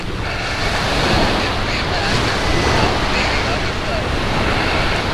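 Ocean surf breaking on the Atlantic shore at Virginia Beach, Virginia, a steady loud wash of waves with heavy wind rumble across the microphone, continuous and unbroken with no voices.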